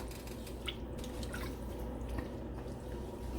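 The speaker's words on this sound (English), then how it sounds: "So go ahead and pour in your bone broth." Bone broth poured from a container into a pot holding braised beef short ribs with thyme and rosemary sprigs, a steady soft trickle and drip running throughout at close range.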